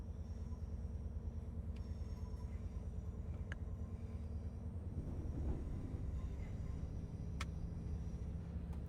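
XC Class 220 Voyager diesel multiple unit in Train Sim World rolling slowly into a station platform at about 25 mph, a steady low engine and rail rumble throughout with a few faint clicks and a brief louder patch midway.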